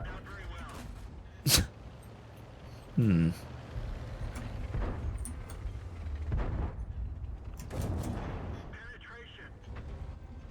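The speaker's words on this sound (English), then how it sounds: "Oh god, explosions." Explosions in a video game during a livestream, two sharp loud blasts a second or so apart followed by scattered booms and rumbling, with someone talking over and between them.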